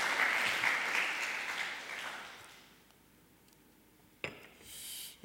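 A church congregation applauds the choir during a Sunday worship service, a warm burst of clapping that swells for about two seconds then fades out, followed by a sharp clink and a brief hiss near the end.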